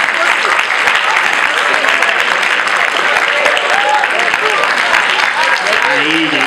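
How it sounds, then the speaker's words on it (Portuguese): Sustained applause fills an auditorium at a round-table event on Black women's health, loud and dense throughout with a few voices and cheers mixed in. "eu queria que vocês dessem uma salva de palmas a todas as mulheres que estão aqui presentes no auditório"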